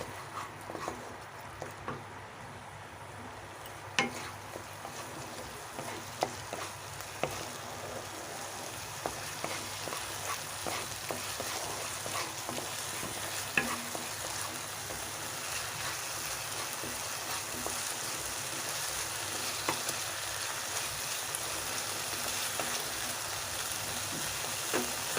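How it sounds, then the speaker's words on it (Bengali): Masala with cashew and poppy seed paste frying in a pan for Bengali potol dorma, a steady broadband sizzle with faint scraping stirs throughout and no voices. "মশলা ভালোভাবে নাড়তে থাকবো।"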